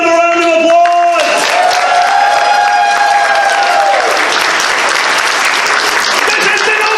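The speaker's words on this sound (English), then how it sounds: "guys, give them a round of applause." Loud applause with cheering and whoops from a convention crowd after an open mic night, a dense roar of clapping that runs throughout while a fading tone sounds over it at the start.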